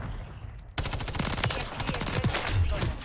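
MTZ 556 rifle fire in Modern Warfare 3 starts abruptly after a short lull, a loud, close run of rapid automatic shots with a steady rhythm and heavy low thumps mixed in.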